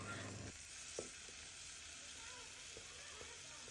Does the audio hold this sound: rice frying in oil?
yes